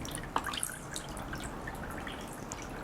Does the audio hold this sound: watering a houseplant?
yes